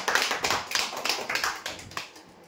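A small crowd claps for a prize winner at a customer lucky draw, a brief burst of close applause that fades out after a couple of seconds.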